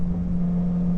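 Engine drone of a VK Commodore 308 V8 race car on track at Bathurst, a steady loud hum with a strong low tone, heard from inside the car without speech.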